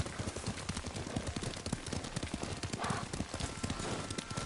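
A horse's hooves clip-clop in a steady, rapid rhythm as it is ridden in the video game Ghost of Tsushima, close and continuous throughout.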